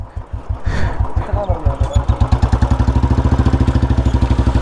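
A Yamaha R15 motorcycle is push-started: after a brief shuffle the engine catches and settles into a loud, close, rapid steady thumping idle, with faint voices in the background.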